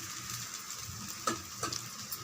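Egg adai dosa fries on a hot pan with a steady soft sizzle, broken by a couple of sharper crackles and pops, close and fairly quiet, with no voices.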